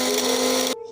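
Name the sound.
grinder grinding white barley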